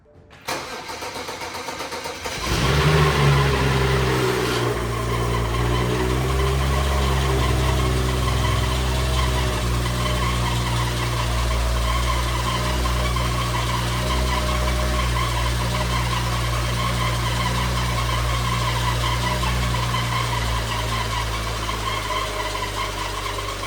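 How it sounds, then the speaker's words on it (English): BMW N5x engine, recently fitted with a pinned crank hub, cranks briefly and fires on its first startup, then settles into a steady, loud, close idle that runs on alone. "that was a successful first startup"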